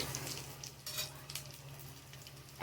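Pieces of pointed gourd (potol) fry in a pan with a soft, steady sizzle, punctuated by light clinks and scrapes as the pieces are turned one by one; quiet and close.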